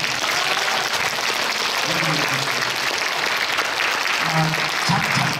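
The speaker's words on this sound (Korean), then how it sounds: "큰 박수를 부탁드립니다" Audience applause at a political lecture event in Korea, a steady dense wash of clapping throughout, with some low voices mixed in underneath.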